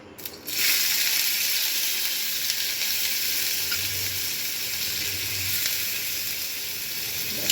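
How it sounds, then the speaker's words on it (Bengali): Onion frying lightly in a little oil in a wok, a steady close sizzle that starts abruptly and carries on evenly, with faint low rumbles and no talk. "কড়াই এবার অল্প একটু তেল দিলাম দিয়ে একটু পেঁয়াজ নিয়ে জাস্ট হালকা করে একটু ভেজে নেব"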